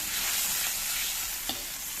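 Shrimp fry in a pan for mee goreng basah, giving a steady loud sizzle with occasional soft scraping taps of stirring, close up and without voices.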